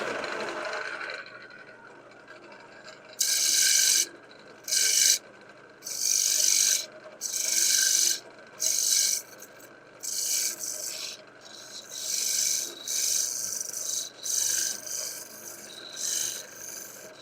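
Wood turned away on a lathe: a steady run of loud, bright rasping cuts comes in bursts of a second or so with short gaps between, close and alone, with no talk.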